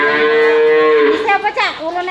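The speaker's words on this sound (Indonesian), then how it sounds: "Sapi Jawa nih, guys." A Javanese cow gives a loud, close moo, one long drawn-out low call that wavers and breaks into a rougher tail near the end.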